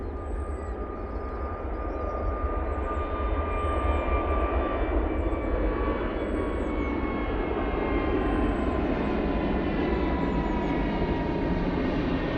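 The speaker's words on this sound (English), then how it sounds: "Jet2 A321 Neo looking absolutely resplendent as it departs." A Jet2 Airbus A321neo departs Manchester Airport, its engines a broad, steady roar heard from a distance that swells slightly as the aircraft climbs away, with faint birdsong chirps above it.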